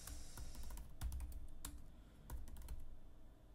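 Rapid typing on a Mac computer keyboard while entering a password, a quick run of light, close key clicks with short pauses between bursts.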